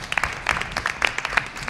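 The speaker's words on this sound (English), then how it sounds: "Let's give our wind ensemble a big round of applause." Audience applause at a school board meeting for a wind ensemble, scattered clapping of a modest crowd, moderately faint and brief with uneven individual claps.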